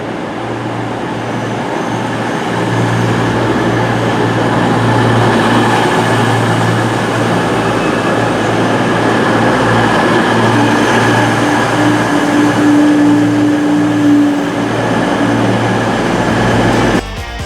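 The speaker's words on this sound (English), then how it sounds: "I'm actually going to go on a train leaving on platform 3A, which will be a Avanti service to take me to Crewe" An Avanti train service leaving platform 3A for Crewe rumbles steadily from start to finish, with a low drone and a brief tonal whine rising near the middle before the noise cuts off at the end.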